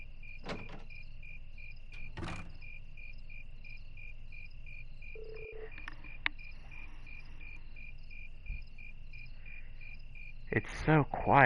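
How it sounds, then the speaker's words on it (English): Crickets chirp at night in the Trails of Cold Steel video game, a steady pulsing trill held throughout. A few soft clicks and thumps cut in, and a brief rustle comes near the end. "It's so quiet I hear crickets."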